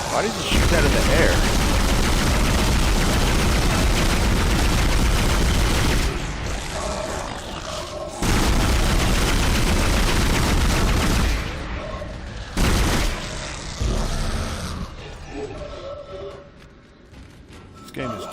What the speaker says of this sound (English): Why did you shoot that in the air?